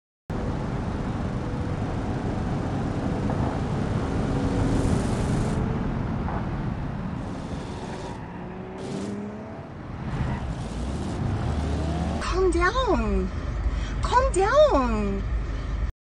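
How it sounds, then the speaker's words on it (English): A minivan cruises the Autobahn in the BeamNG driving game, its engine and road roar droning steadily, with brief tonal squeals rising near the end. "The Karen drives a minivan and brake checks other people for no reason."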